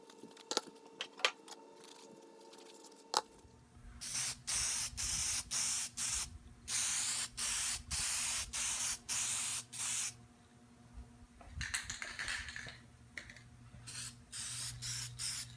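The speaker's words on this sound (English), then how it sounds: "I'm just going to paint them with a little bit of clear coat just so they don't rust in the future." Clear coat sprays onto bare metal drill press spindle feed parts in a string of short, loud aerosol bursts with brief pauses between them, close up and without talk.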